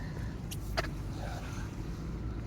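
A car driving along with a steady, low road and engine rumble, plus a couple of faint brief clicks partway through, and no voices.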